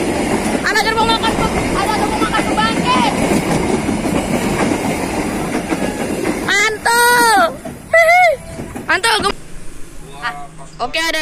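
A passing train with a dining car rumbles steadily and loudly up close, with a wheel rhythm and shrill horn or squeal tones near the end and a voice speaking over it.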